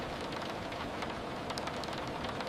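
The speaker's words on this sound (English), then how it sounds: "your eyes begin to follow the rain more closely" Heavy rain falls as a dense, constant hiss of water, steady and enveloping, with scattered droplet ticks and no voices.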